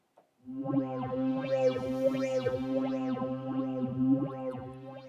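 A sustained synth pad chord from PadFusion with a phaser sweeping up and down in slow repeating arcs, giving a swirling, whooshing motion to the tone.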